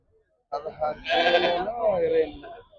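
A sheep bleats once nearby at the Chillakallu sheep and goat market, a long wavering call that rises and falls before trailing off.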